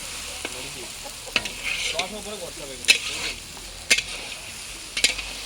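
Potatoes are stirred into spices frying in a pan, producing a sizzle with several sharp scraping clatters from the utensil at irregular intervals, with faint talk nearby.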